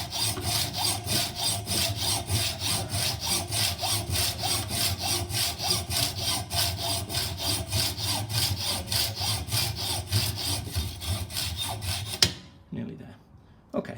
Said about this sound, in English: a normal hacksaw blade will go through it well enough